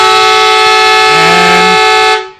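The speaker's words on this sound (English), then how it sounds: "as you can tell by the foghorn in the background, that is full time here" Loud, sustained foghorn blast marking full time at an amateur Australian rules football match between Nelson Bay and Warners Bay, one steady continuous tone that cuts off abruptly near the end.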